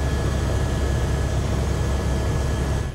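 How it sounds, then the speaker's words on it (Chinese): A helicopter flies over the Noto earthquake disaster zone in Japan, heard from inside the cabin as a loud, continuous engine and rotor roar. "直升机飞越日本灾区上空"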